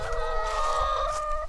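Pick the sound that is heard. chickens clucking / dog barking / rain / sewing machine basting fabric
chickens clucking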